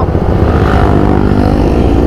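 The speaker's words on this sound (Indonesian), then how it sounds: "Motor serem ya kan, 600 cc, suaranya kayak gitu." A Yamaha R6 600 cc sport motorcycle engine runs loud and close, a steady, rough mechanical drone that continues without pause and carries no speech.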